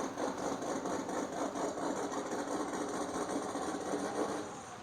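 Steady idling drone of a John Deere 4620 tractor engine in Farming Simulator 19, a constant mid-pitched hum with faint rhythmic pulsing, fairly quiet and unbroken, and no talking.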